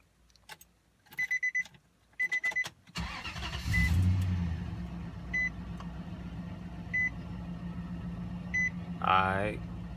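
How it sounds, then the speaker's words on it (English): A Nissan Titan pickup truck's engine cranks and starts after a series of rhythmic dashboard warning beeps, then settles into a steady low idle with occasional chimes, recorded close by. "I'm gonna crank this thing up."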